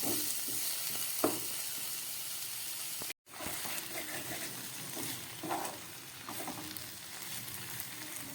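Mixed vegetables and onion stalks cook over low heat in a wok, giving a steady, close sizzle and hiss with faint stirring. A short cut in the sound comes partway through, and no one speaks.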